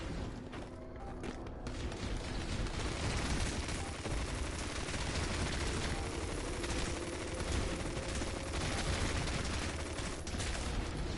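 Enemy gunfire rattles nonstop in the Earth Defense Force 5 video game, a dense, loud barrage of overlapping shots and booms that holds steady for the whole stretch with no pauses.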